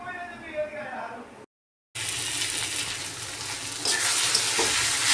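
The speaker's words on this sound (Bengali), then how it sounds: "শাকটা তো ভাজা বসিয়ে দিয়েছিলাম, পেঁয়াজ আর হচ্ছে কাঁচামরিচ দিয়ে।" Jute greens frying with onion and green chili in a pan, a steady broad sizzle with stirring, briefly cut off by a short gap of silence, then returning louder and continuing close.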